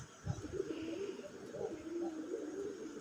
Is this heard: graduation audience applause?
no